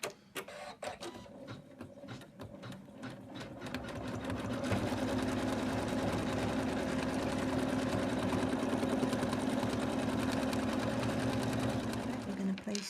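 An embroidery machine stitches the outline of a snowman stocking hat, running as a loud, steady mechanical whir with a fast repetitive needle rhythm after a few stop-start bursts at the beginning.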